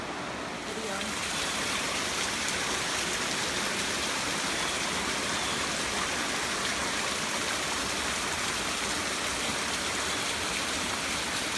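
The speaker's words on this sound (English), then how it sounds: "River down here." Broadband rushing water from a river along the Appalachian Trail, a steady, loud wash of flow that fills the whole clip without pause.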